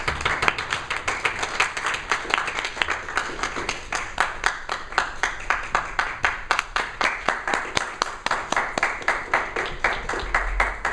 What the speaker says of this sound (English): please help me welcome, with a thunderous round of applause, Toastmaster Asrar Merchant.